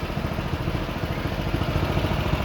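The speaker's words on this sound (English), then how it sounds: "There's one tractor coming, and there comes the other one again." Farm tractor engine rumbling steadily as it drives past, a continuous loud low mechanical drone with clattering, close and with no voices.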